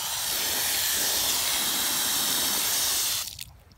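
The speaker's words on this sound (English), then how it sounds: "I'm going to hose off my boots." A garden hose sprays water steadily to rinse off a pair of boots, a loud, close hiss that runs unbroken for about three seconds before cutting off abruptly.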